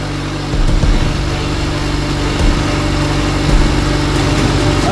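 A Honda car engine idles steadily with a leaking fuel injector, a continuous close, loud running hum with slight fluctuations in intensity.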